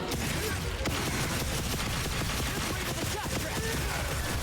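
Rapid gunlance fire in Monster Hunter Wilds, a dense, continuous clatter of sharp bursts and mechanical impacts layered over loud game noise, with no talk.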